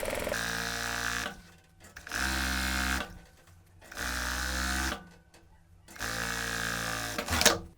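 A sewing machine stitches the length of a fabric tube for trouser belt loops, in four steady whirring runs of about a second each separated by short pauses, close and clear.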